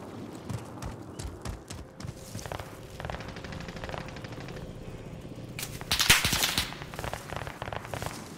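Scattered gunshots and automatic bursts in the battle royale game Warzone on Rebirth Island, mixed with footsteps and game effects, including a louder sharp burst of fire late on.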